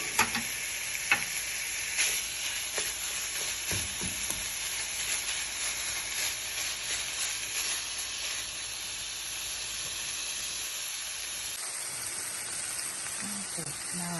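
Beef browns in a pan for a baked macaroni and beef casserole, giving a steady close sizzle with light stirring scrapes throughout and a brief spoken voice near the start.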